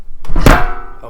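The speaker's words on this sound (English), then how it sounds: "she's jumped up on the table." A cat jumps up onto a table and lands with a single solid thud close by, followed by a fading rumble as a man briefly exclaims.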